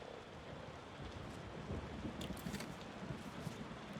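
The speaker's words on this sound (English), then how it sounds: "It is raining." Rain on a rainy night in the tavern-management video game Tavern Keeper, a steady wash of rainfall with low rumbling underneath and a few brighter splashes near the end, with no voices.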